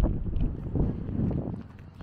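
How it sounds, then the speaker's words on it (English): Steady breeze rushes and buffets a microphone at a coastal harbor, a continuous low, rumbling wind noise with no voices. "it is very breezy"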